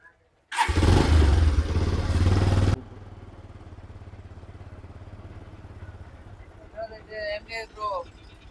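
A motorcycle engine kicks into a loud start and revs hard for a couple of seconds, then settles into a steady running rumble as it moves off, with voices chatting over it near the end.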